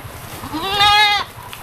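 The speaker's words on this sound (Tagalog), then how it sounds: "So itong kambing nila nanganak din." A goat on a farm, one that has just given birth, lets out a single loud, close bleat. The bleat is drawn out and wavering and rises above low background rustling.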